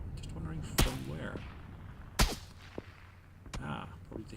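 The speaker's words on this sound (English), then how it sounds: "It looks like someone is taking some pot shots at me." Three sharp gunshot cracks in PlayerUnknown's Battlegrounds, spaced a second or so apart, with a faint smaller pop between them over a low rumbling background.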